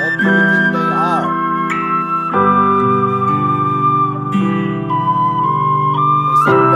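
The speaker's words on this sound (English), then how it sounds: "There's a penny whistle, guitar, and piano." Slow tune carried by a penny whistle over guitar and piano accompaniment, the whistle's clear sustained notes riding above steady chords throughout, loud and close with no talking.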